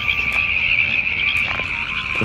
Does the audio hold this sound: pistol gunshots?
no